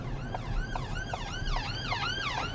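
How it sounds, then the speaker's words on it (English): An ambulance siren approaching on a snowy UK road, a steady repeating wail that sweeps up and down in rapid cycles, moderately loud and heard on its own over faint road rumble. "the ambulance should be able to get around me there"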